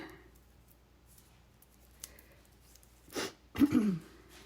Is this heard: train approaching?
no